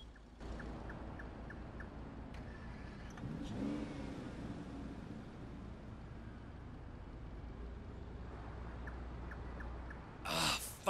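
A car driving off in the open-world game Sleeping Dogs, the engine revving up and humming steadily at mid distance throughout, with a brief sharper burst near the end.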